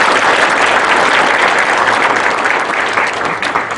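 A large audience at the opening ceremony of a public humanities lecture series in Korea applauds loudly and continuously, a dense, even wash of clapping that holds steady and only slightly thins toward the end.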